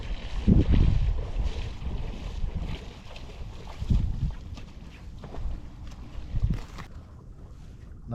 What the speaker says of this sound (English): Nice little breeze, listen to the waves.